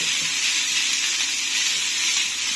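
Chicken masala spices frying in a pan, a steady, even sizzle and hiss that stays loud and close throughout without pause, with no talking.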